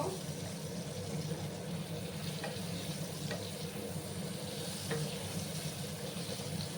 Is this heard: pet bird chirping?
no